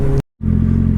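Kawasaki Ninja ZX-14 motorcycle from 2009 with a tuned exhaust, a loud close idle rumble that cuts out abruptly for a moment, then fires back in as a steady throbbing drone.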